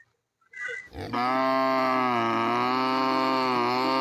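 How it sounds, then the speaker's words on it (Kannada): After a brief rustle, a cow lets out one long, loud, sustained moo that carries on to the end. "ಅದೇ ಎಂತಕ್ಕೆ ನಮ್ಮನೆ ಆ ದನ ಆಮ್ನಿ ಕೂಗುತ್ತೆ"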